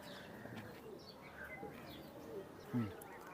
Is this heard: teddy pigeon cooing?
yes